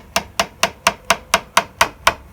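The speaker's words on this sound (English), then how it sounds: "Now it's not a particularly sharp chisel, but it's good enough for this." A not particularly sharp chisel cuts into the corner of a square-edged kitchen worktop, struck eight times in an even, brisk rhythm, each blow sharp and close with a short decay.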